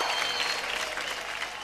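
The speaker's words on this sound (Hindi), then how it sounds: "जोरदार तालियां" Dense, steady applause from a studio audience at a Hindi television game show fills the short stretch, loud and continuous with no pauses and no talk over it.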